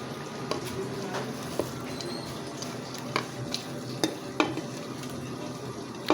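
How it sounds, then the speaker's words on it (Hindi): Onions frying in hot ghee inside a clay pot, a steady soft sizzle with occasional sharp clinks and scrapes of a spoon, fairly quiet and with no speech. "अब हम इसके अंदर जो है वो ऐड करेंगे प्याज"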